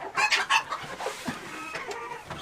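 Several chickens cluck inside a coop on a snowy day before a blizzard, a steady, close chorus of overlapping clucks and squawks with no talking.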